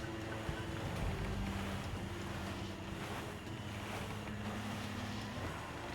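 A sailing ship runs under full sail in Assassin's Creed IV Black Flag, with steady wind rush, creaking timber and surging waves forming a continuous loud wash, without speech.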